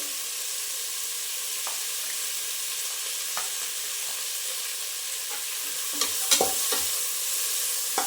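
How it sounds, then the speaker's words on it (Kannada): Ginger garlic paste frying in a pan, a steady soft sizzle with a few sharper clinks and scrapes of stirring near the end, no voices. "ಶುಂಠಿ ಬೆಳ್ಳುಳ್ಳಿ ಪೇಸ್ಟು, ಒಂದು ಸ್ಪೂನ್ ಹಾಕೊಳ್ತಾ ಇದ್ದೀನಿ ಶುಂಠಿ ಬೆಳ್ಳುಳ್ಳಿ ಪೇಸ್ಟು"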